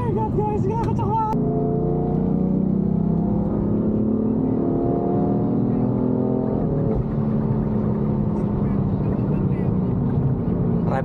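A tuned 6xx-horsepower Stage 3 BMW M3 F80 pulls hard from 100 to 200 km/h, its engine roaring loud and steady with rising pitch through gear changes, heard close from inside the car.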